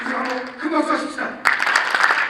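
Audience applause at a meeting of regional Christian council church leaders in a hotel grand ballroom in Incheon, steady clapping throughout with a louder, denser burst in the second half, mixed with a voice over the loudspeaker.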